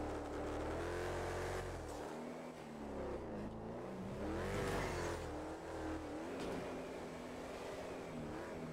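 A truck engine revs and roars continuously in the Grand Theft Auto video game, with the pitch rising and falling as it accelerates and shifts, loud and steady with no talk.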